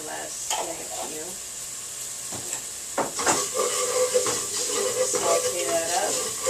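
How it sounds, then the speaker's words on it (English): Garlic sautés in a pan for a vegan tomato garlic bread soup, a steady close sizzle broken by scraping stirs, with a voice speaking briefly over it. "let that saute up"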